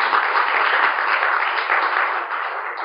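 Sustained audience applause, a dense, even wash of many hands clapping at once, loud and steady throughout and tapering slightly toward the end, with no voices over it.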